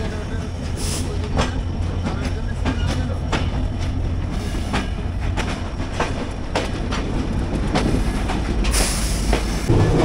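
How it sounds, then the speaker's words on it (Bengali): Rupasi Bangla Express passenger train running from Jessore to Dhaka via the Padma Bridge, heard from inside as a steady loud rumble with rhythmic clickety-clack of wheels over rail joints and occasional squeals. "আজকে যশোর থেকে ঢাকার ট্রেন জার্নি করতেছি রূপসী বাংলা এক্সপ্রেস।"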